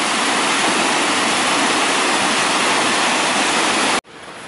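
Floodwater pours over a river bank in a park, a loud, steady broadband roar like a waterfall that drops abruptly near the end, leaving a softer rush.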